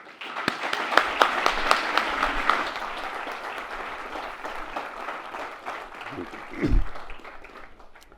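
Audience applause welcoming a speaker onto a stage: a steady crowd of clapping hands that swells and then fades, with a brief voice or thump near the end.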